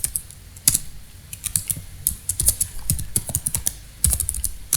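Typing on a computer keyboard while entering data into an Excel spreadsheet: quick irregular key clicks in short bursts, close and crisp, with no voices.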